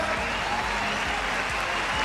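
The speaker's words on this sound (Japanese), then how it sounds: "今一度大きな拍手をお願いいたします。" Arena crowd at a Rizin mixed martial arts event applauding the fighters after a bout; dense, continuous clapping fills the whole short stretch, loud and steady with no pauses.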